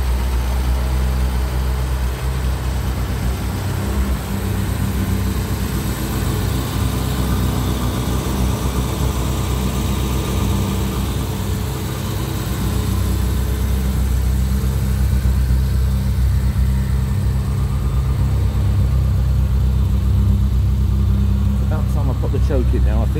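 A 1968 Morris Mini Cooper S classic car ticking over at idle with its choke, a steady low engine hum running throughout while people talk over it.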